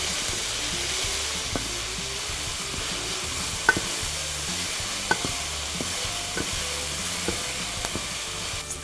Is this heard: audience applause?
no